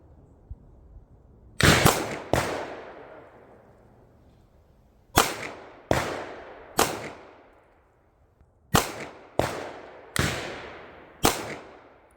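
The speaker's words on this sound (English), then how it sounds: "Shooter, fire when ready." Handgun shots fired on an outdoor shooting range during a concealed-carry certification course: seven loud, sharp cracks in three quick bursts, each trailing off in a long echo, with quiet pauses between them.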